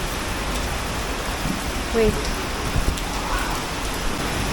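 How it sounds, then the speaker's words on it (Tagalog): Steady rain falls as a dense, even hiss during a storm in Boracay, with a short spoken word and a few faint knocks over it. "Diba, umuulan."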